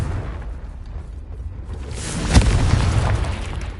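A Confringo spell explosion in the video game Hogwarts Legacy goes off as a single loud boom with a sharp crack, then a rumbling roar that lingers after a quieter buildup.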